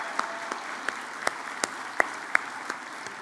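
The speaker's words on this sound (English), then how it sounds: "Big round of applause for them." Sparse, scattered applause from a convocation audience for graduates' parents, partners and families, with individual sharp claps standing out over a soft, thin background in a large hall.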